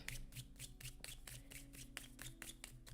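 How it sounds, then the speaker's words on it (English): Board game cards being shuffled by hand, a rapid series of crisp riffling taps close to the mic, repeating steadily without pause. "So we're going to shuffle these up."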